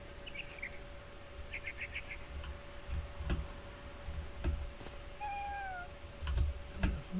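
Short, clear meows from a cat in the video game What Remains of Edith Finch, heard alone over a faint steady hum, with light ticking clicks and a few bird-like chirps around them.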